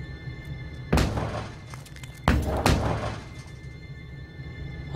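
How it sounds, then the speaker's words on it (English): Pistol shots in the horror game Daylight, two or three sharp loud bangs with reverberant tails, spaced apart over a quiet, eerie ambient drone. "That was a pistol."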